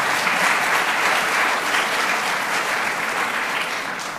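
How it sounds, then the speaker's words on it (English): Steady applause from a conference audience at a global governance panel in Dubai, with dense, even clapping from many hands that carries at a constant level from start to finish. "More than half of the audience applauded"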